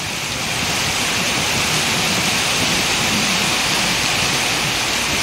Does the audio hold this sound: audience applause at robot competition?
no